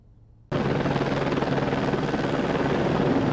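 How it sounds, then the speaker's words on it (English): Firefighting helicopters working a wildfire on Vancouver Island, bucketing water from a nearby river, produce a loud, steady rotor roar that starts abruptly and continues without break. "a steady stream of helicopters are bucketing water from a nearby river"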